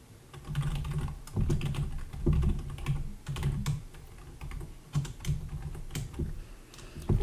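Fingers type C++ code on a computer keyboard in steady bursts of close, crisp key clicks with brief pauses, nothing else heard.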